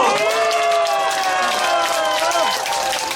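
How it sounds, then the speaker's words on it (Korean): A crowd at an election campaign rally for a county governor candidate applauds and cheers, steady clapping mixed with voices and sustained tonal sounds, fairly loud and continuous. "우리 대한민국을 위해서 박수를 한번 보냅시다"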